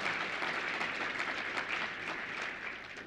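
An audience at a church event applauds a speaker in a steady, dense patter of clapping that fades slightly toward the end, with no talk over it.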